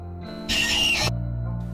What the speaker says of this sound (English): you have to stare at him until he screams at you and leaves